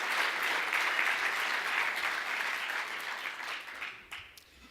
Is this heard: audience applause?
yes